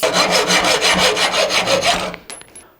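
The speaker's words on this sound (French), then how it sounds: "donc on va la faire à la scie à métaux" A hacksaw rasps steadily back and forth through metal screws in quick, even strokes, close by, then stops with a few light clinks.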